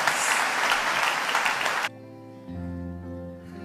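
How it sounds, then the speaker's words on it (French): A congregation claps for a newly baptised woman at a church baptism service. Dense, loud applause lasts about two seconds, then stops abruptly and soft keyboard music carries on. "Est-ce qu'on peut l'applaudir?"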